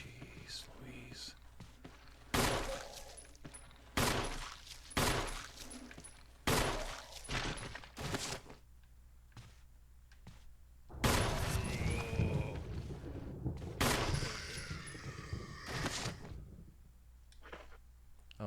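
Gunfire in the Resident Evil video game comes as several sharp, loud shots spaced a second or two apart, followed by a denser cluster of blasts, with quiet whispery speech and game sounds between them.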